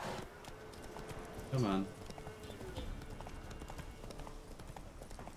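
Roach the horse gallops with a steady clip-clop of hooves in The Witcher 3, a continuous rhythm heard at moderate volume under a brief spoken line.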